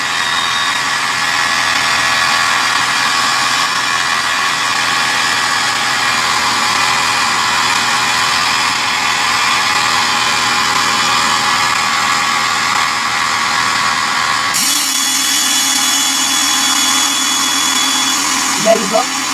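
A Smart Start Stealth Blower fitted to an SSI-20/30 unit runs inside a car, a loud steady whooshing fan hum that continues throughout and then shifts in tone near the end.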